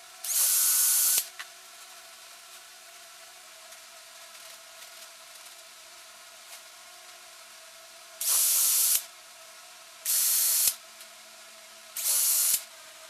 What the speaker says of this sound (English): I'm going to pre-drill the holes right through the center of my markings